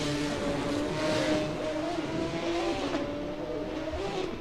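A race car at Mid-Ohio has spun into the grass and restarts, its engine droning and revving in rising and falling tones as it pulls away, heard steadily at moderate distance with no other clear sounds.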